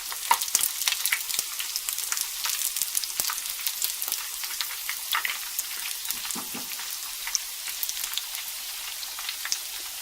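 Corn fritters sizzle and crackle steadily in a hot frying pan, a dense, continuous hiss of frying with scattered small pops throughout, fairly close and with no talking.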